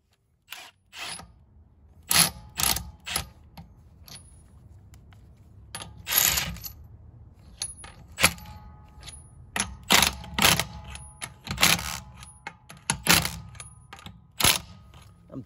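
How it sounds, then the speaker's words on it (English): A Milwaukee M12 stubby impact wrench in automatic tightening mode fires off short, sharp bursts of rattling impacts with gaps between them, close and loud, with some small mechanical clicks in between and no talking. "I'm just testing out the automatic tightening mode. Works pretty well, actually. spins until it hits until it impacts and then automatically stops."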